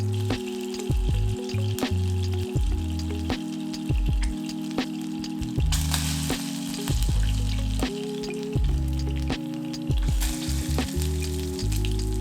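Okara meatballs frying in a pan with teriyaki sauce nearby, a continuous close sizzle with crackling pops and the occasional scrape of stirring, no voices.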